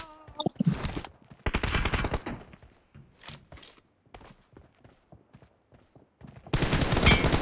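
Rapid gunshot bursts from an M416 rifle in a mobile shooter game, loud and close, firing in clusters separated by short gaps, with a long sustained volley at the end.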